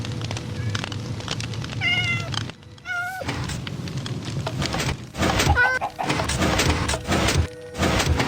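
Cat meowing in Minecraft, several distinct rising mews spaced across a few seconds, heard close and clear over a busy background of game sounds and chatter-like noise.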